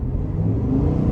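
A 2023 GMC Sierra Elevation X31 pickup truck accelerating on the highway, with a steady, loud engine rumble and whirring drone that holds evenly throughout, close and continuous with no talking.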